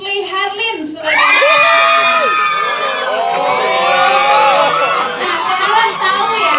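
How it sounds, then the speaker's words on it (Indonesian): Loud crowd cheering, whooping and shouting at a film press conference for a horror movie, rising suddenly after a second and holding as a dense, sustained roar of excited voices. "tepuk tangan dulu dong Denira."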